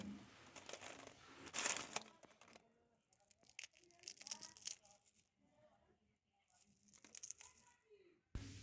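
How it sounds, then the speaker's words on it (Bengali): Crispy fried peanuts crunch in short, faint crackling bursts separated by quiet gaps, close to the listener. "তোমরা শব্দ শুনেই বুঝতে পারবে যে কতটা মুচমুচে হয়েছে।"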